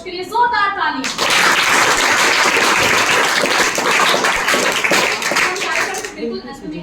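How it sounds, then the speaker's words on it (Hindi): Loud, sustained applause from an audience at an inter-district anti-drug poster making competition, dense clapping lasting several seconds, with a speaking voice heard briefly before and after. "एक बार फिर से ऐसी सकारात्मक सोच के लिए जोरदार ताली।"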